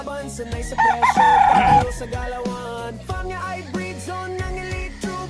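A Boston Black stag rooster crows once loudly near the start, a drawn-out cock-a-doodle-doo, followed by a busy backdrop of other fowl and farmyard noise.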